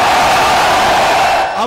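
A dense rally crowd in Okara cheering and shouting for Nawaz Sharif at a political jalsa, loud and continuous, with a wall of voices and whoops that briefly dips at the end.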